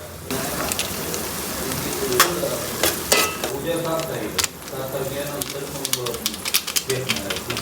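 Ginger garlic paste frying in butter in a pan for pav bhaji gives a loud, steady sizzle with stirring scrapes and clicks throughout, while people talk over it.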